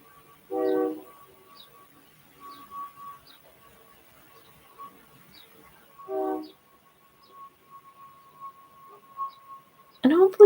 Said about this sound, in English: 2 trains are passing.